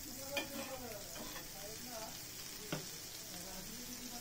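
Butter sizzling on a hot griddle before a paneer sandwich goes on to toast, a faint soft sizzle with a few light clicks and scrapes, alone without talk.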